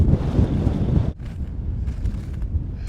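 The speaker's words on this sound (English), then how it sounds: "expect it to be colder and windier once you get up here" Wind on an exposed mountain summit near Loveland Pass in Colorado, colder and gustier than forecast, roaring steadily against the microphone, heavier in the first second and then easing to a lower, constant rush.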